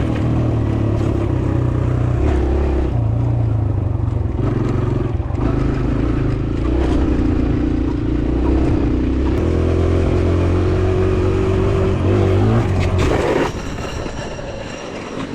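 A 2022 Kawasaki KLX140RF dirt bike rides a trail in third gear, its engine droning steadily and loud with slight rises in revs, easing off near the end.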